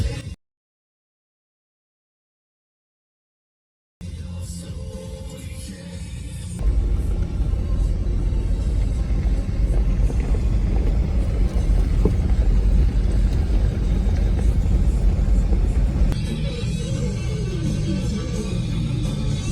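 A vehicle rolls from Park Road 12 onto the unpaved dirt of Glen Springs Road in Big Bend National Park, a steady low engine and road rumble that swells after a brief silence and holds loud and continuous.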